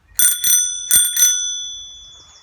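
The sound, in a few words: bicycle bell ringing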